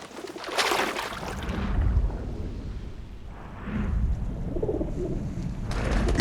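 Gregarious pigeons cooing by a river, soft low throaty calls repeating over several seconds against a rumbling outdoor background, with no talk.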